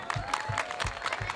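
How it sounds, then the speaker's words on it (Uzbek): Concert audience at a live performance claps in a steady rhythmic beat, a few measured claps per second with a faint tone and crowd murmur underneath. "Shu Mirkomilga bitta qarsak chop qo'yamiz a"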